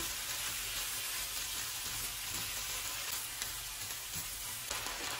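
Sweet corn kernels sizzle and fry in a pan, a steady dense crackle with faint stirring scrapes throughout, no voices.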